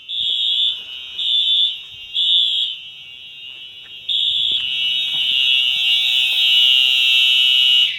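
A fire alarm system goes off after two pull stations are pulled during a system test. A loud, high electronic tone sounds in repeated pulses, then holds as a continuous blare with faint background noise underneath.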